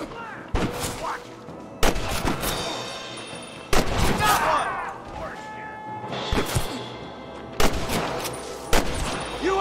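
Gunfire cracks through a Red Dead Redemption shootout in bursts of several sharp shots, loud and close, separated by short gaps, with characters shouting between volleys.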